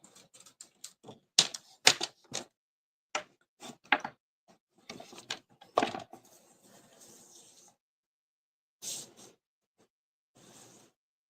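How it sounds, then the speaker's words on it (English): A paper trimmer slices card stock for a Hello Spring Paper Pumpkin craft project, producing a series of sharp, close clicks and sliding cuts in quick bursts, then a pause and two softer final strokes. "So I'm gonna trim it a little bit."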